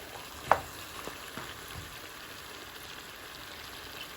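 Onion, garlic, ginger and salt sautéing in a pan, a soft continuous sizzle with a sharp clack of a utensil early on and a few lighter scrapes, fairly quiet and close.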